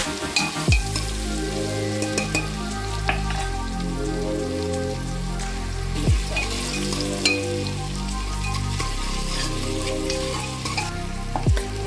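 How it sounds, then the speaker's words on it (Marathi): Chopped onion and tomato fry in oil in a pan for mutton khima, a steady close sizzle with periodic scraping stirs of a spatula and faint clinks, no speech. "आता कांदा टोमॅटो आपल्याला चांगला भाजून घ्यायचा आहे फक्त तेलावरती."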